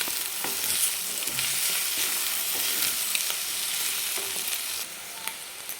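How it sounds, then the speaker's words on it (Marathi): Egg chutney being stirred in a hot frying pan, a steady broadband sizzle with intermittent scraping stirs throughout, close and continuous, no voices. "तर मी मिक्स करून घेते एकदम चांगली."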